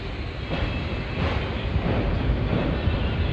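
A daily MEMU passenger train runs between Reddigudem and Vijayawada, a loud, steady rumbling roar of the moving carriages heard from onboard, swelling slightly midway and continuing without a break.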